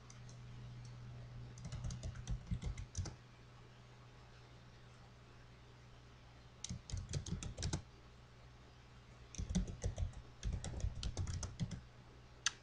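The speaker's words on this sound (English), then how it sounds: "as I start to type in this box" Keys clack in three quick bursts of typing on a computer keyboard, a tweet being entered, with close, crisp rapid clicks broken by pauses of near silence over a steady low electrical hum.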